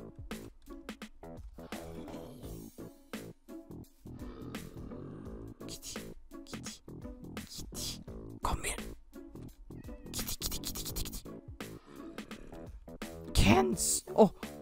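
Minecraft cat meowing, several short meows scattered through a stretch where a person talks almost continuously, along with game sound effects.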